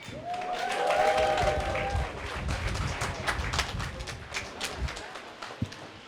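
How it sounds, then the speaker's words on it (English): An audience at a Malcolm X Day performance event applauds to welcome the Alkebe-Do Warriors performers: a loud, dense wash of clapping and crowd noise that swells early, then thins into scattered claps. "give yourselves another big round of applause"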